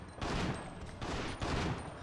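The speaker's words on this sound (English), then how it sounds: "you need to shoot the rocket launcher at Yoku" A rocket launcher fires in the PS2 game Biohazard Outbreak, a loud, dense roar of explosive blasts packed into a couple of seconds, nearly continuous with brief dips between bursts.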